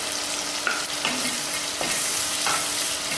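Spice powders stirred and frying in hot oil for fenugreek (vendhaya) kuzhambu with tomato, a steady close sizzle broken by a few soft scrapes of the spoon against the pan.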